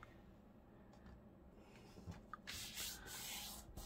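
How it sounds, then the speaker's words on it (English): Graphic 45 Woodland Friends patterned paper is folded in half for a scrapbook pocket, giving a faint, steady rubbing and sliding that swells into a louder scraping crease near the end. "So I'm just going to fold it in half."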